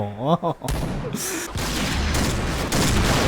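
Sniper rifle fire in the Point Blank shooter game, heavy booming shots and rumbling blasts packed together loud and close over about three seconds, with a voice speaking briefly at the start.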